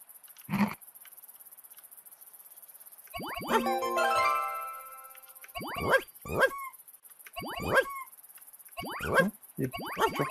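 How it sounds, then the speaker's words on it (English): Dog in the video game Rain on your Parade gives a series of short, sharp barks and yips in bursts, with a whining stretch among them, fairly close against a quiet background. "Dog."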